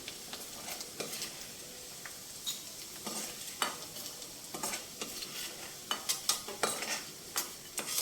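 Dried prawns fry in a pan until crisp, giving a light crackling sizzle broken by frequent sharp scrapes and taps of a spatula stirring them, close and alone with no talking.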